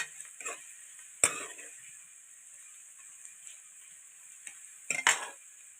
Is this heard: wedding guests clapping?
no